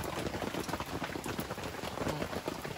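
Heavy autumn rain pours down on a lakeside campsite, a dense, steady hiss of drops drumming on nearby surfaces with no break and no voices.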